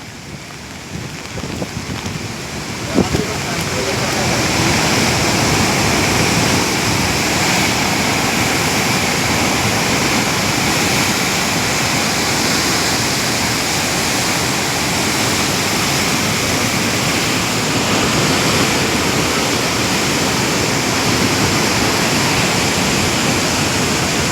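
Loud, steady roar of water rushing over the overflowing Madhopur dam at Pathankot, a dense continuous torrent filling the whole clip with no voices.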